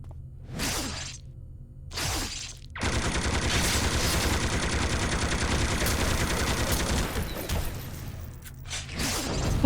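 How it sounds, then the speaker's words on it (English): A Gatling gun rattles in a video game fight, short bursts at first then a long sustained stream of rapid fire with whooshes and shattering clatter, loud and without speech. "Even that Gatling gun attack had nothing on the health of this character."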